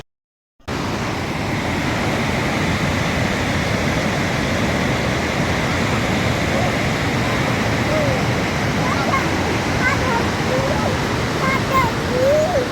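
After a moment of silence, the steady, dense roar of Cumberland Falls in Kentucky fills the scene and rushes on unbroken, with faint chirps near the end.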